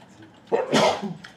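A single person sneezes once, close by, with a short sharp intake followed by a broad burst; the setting is a quiet classroom-style training session.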